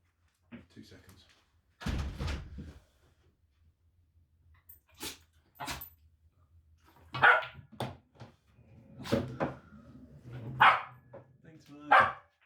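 A dog barks in a handful of sharp, loud bursts spread across several seconds, interrupting a game of pool, with a few thuds and some talking mixed in between the barks.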